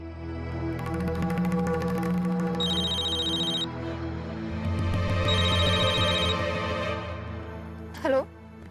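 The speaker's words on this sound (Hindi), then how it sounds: "अर्जुन तुम मुझे क्यों फोन कर रहे हो?" A telephone rings with an incoming call, two repeated electronic ringtone bursts sounding over background music and dialogue in a Hindi television drama scene.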